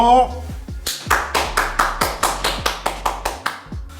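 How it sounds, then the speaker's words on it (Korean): A voice is heard briefly, then soldiers in a military barracks clap in unison. About a dozen sharp, evenly spaced claps follow in a brisk, steady rhythm, loud and close. "박수 한번 주십시오"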